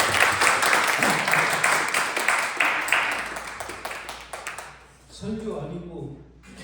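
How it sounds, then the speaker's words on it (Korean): A church youth congregation applauds to welcome the pastor, a dense burst of clapping that fades out, followed by a voice speaking. "우리 목사님 나오실 때 큰 박수로 환영의 박수를 드리겠습니다"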